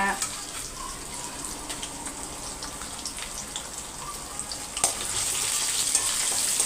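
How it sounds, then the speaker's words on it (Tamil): Garlic cloves and dried red chillies fry in hot oil with a continuous, soft sizzle and crackle, joined by a single sharp clink partway through. "நல்லா பொறிஞ்சு வரட்டும்"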